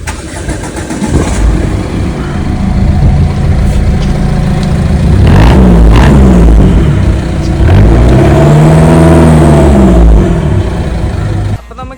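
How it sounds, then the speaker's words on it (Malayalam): A modified Ford Figo with an altered exhaust starts up and revs loudly and close, the engine note climbing and falling through several throttle blips before cutting off. "പിന്നെ വണ്ടിക്ക് ചെറിയൊരു സൗണ്ട് വ്യത്യാസമുണ്ട്, നമ്മൾ അതിന് ചെറുതായിട്ട് നമ്മൾ പണിഞ്ഞിട്ടുണ്ട്, അതിൻ്റെ സൗണ്ട് ഞാൻ കേൾപ്പിച്ചത്"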